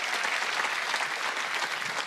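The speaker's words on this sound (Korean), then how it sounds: "박수치라는 거예요" A church congregation at a Wednesday service breaks into applause, a loud, dense, continuous roar of many hands clapping that holds steady throughout.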